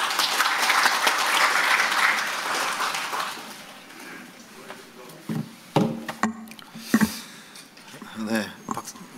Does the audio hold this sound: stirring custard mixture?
no